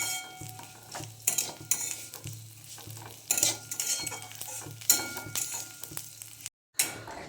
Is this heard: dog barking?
no